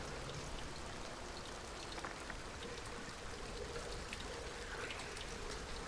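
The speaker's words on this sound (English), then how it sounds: "Freaking Thunder Shower." Steady, dense thunder-shower rain patters evenly in a video game, holding a constant, close hiss with no talking.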